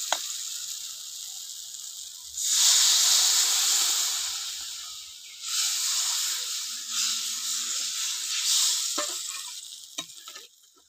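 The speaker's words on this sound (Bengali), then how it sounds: "মশলাটা আমার ভালো করে কষানো হয়ে গেছে, এবার দিয়ে দেবো আমি জল" Water poured onto hot fried spice paste in a pan sets off a sudden loud hiss and sputter that fades, then surges again in several bursts of steam. Clinks of a spoon follow as the hissing dies down.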